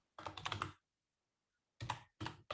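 Typing on a computer keyboard, short clustered bursts of clattering keystrokes heard close, one burst followed by a long pause and then two more quick runs of keys.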